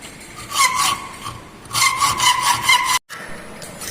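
A hand saw cutting the tapered side of a wooden single dovetail, two bursts of rhythmic rasping strokes, close and clear, separated by a short pause, then a brief dropout and lighter scraping.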